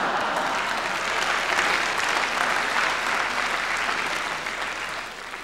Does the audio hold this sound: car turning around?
no